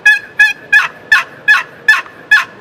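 A wooden turkey box call imitates a hen's yelping in a string of seven loud, evenly paced, raspy yelps that are close and stand alone.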